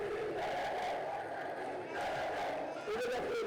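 A large audience at a political gathering cheers and applauds, a dense roar of shouting voices and clapping that stays loud throughout with rising calls near the end.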